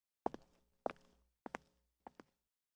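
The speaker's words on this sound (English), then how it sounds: "making sure that my footsteps are loud on the hallway floor" Footsteps on a hallway floor in the fighting game Persona 4 Arena Ultimax: four slow, evenly spaced pairs of heel-and-toe knocks, crisp and close, with silence in between.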